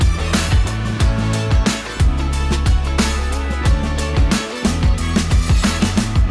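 A guitar part in the third chorus of a full band production, bright rhythmic guitar over steady drums and bass, loud and continuous with punchy repeated hits.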